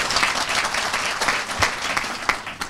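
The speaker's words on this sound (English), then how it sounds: "So a big clap for you." Town hall audience in Puerto Rico applauding steadily throughout, a dense continuous wash of clapping with a few sharper individual claps standing out near the end.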